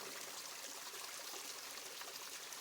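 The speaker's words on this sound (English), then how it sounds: "You can hear the water behind us." A mountain stream on the Appalachian Trail rushes steadily close by, a continuous broadband flow of water with no voices over it.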